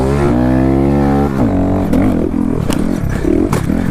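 Honda Grom motorcycle on a motocross track, small engine revving high and steady in first gear, then dropping into choppy, uneven bursts of throttle, loud and close.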